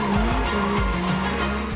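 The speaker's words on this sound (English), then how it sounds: "the Performante manages to power slide out of corners" Lamborghini Urus Performante in Rally mode power sliding out of a corner, heard as a loud, sustained engine roar with shifting pitch and rough tire noise across a brief burst.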